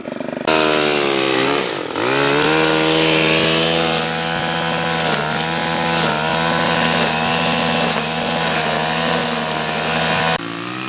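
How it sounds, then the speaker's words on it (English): STIHL FS130R string trimmer cutting high weeds, a loud, close, buzzing two-stroke engine held at high revs with small dips in pitch as the line bites into growth. "String trimmer, as you can see here, does a pretty good job on the small stuff."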